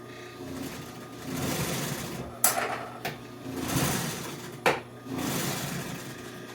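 Sewing machine stitching auto upholstery in a trim shop, running in a steady buzzing whir that stops and starts in bursts, with a couple of sharp clunks between runs.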